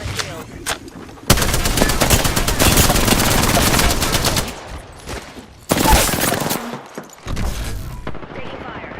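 Gunfire in the battle royale game Apex Legends comes as loud, dense bursts of rapid automatic shots, with several sustained volleys separated by brief pauses and voices underneath.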